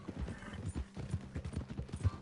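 A horse's hooves clip-clop at a steady walking rhythm in the Western video game Red Dead Redemption 2, with soft thuds over faint background, at low volume and without speech.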